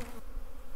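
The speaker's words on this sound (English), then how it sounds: "I just love that sound of the bees." Honey bees buzz in a hive, a brief, steady, fairly faint hum with nothing else over it.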